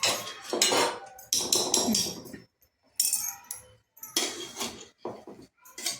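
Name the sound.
spoon mixing mango pickle in a pot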